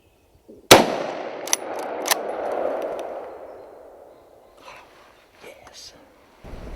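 A single sharp rifle shot from a Merkel Helix cracks out during a roebuck hunt, followed by a long rolling echo across open country, with faint whispered voices and small sounds after.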